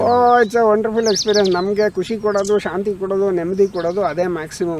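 Birds chirp and call around a rain-fed forest farm, their short high tweets scattered faintly in the background while someone talks steadily in the foreground.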